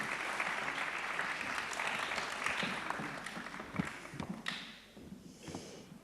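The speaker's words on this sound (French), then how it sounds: "Oui, on peut vous applaudir." A lecture-hall audience applauds speakers at a French public debate with steady, fairly close clapping that thins out and fades toward the end.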